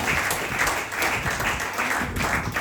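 A church congregation applauds with dense, steady clapping that fills the room, loud and continuous with a faint murmur beneath.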